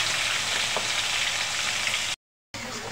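Ground spice paste hits hot oil left from frying pointed gourd, giving a loud, dense, close sizzle that continues steadily, cuts to brief silence, then resumes.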